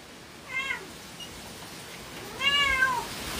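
A kitten meows twice, a short cry followed by a longer, louder one, close and clear over a quiet background hiss.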